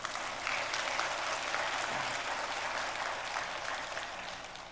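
A church congregation applauds during a Sunday sermon, a steady wash of many hands clapping at moderate distance, sustained evenly throughout.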